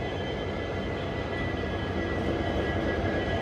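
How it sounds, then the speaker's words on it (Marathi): A railway engine on a high-speed trial approaches on the Beed to Wadwani section, giving a steady droning rumble that grows slightly louder toward the end, with no voices. "आता इथं पोचलेलं आहे इंजिन"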